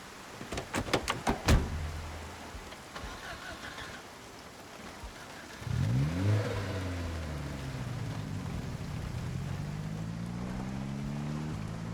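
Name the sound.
getting into a car in the video game Project Zomboid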